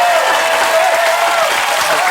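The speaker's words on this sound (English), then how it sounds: "He deserves a round of applause" A studio audience at a televised talent-show results broadcast claps for the judges, dense and loud applause filling the whole short stretch with a faint whistle or cheer on top.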